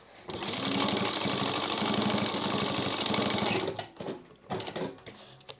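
Folded webbing for a sling crossbody bag is sewn on a machine: a loud, steady mechanical whir with rapid needle pulses for about three and a half seconds, then stopping into a few scattered handling knocks.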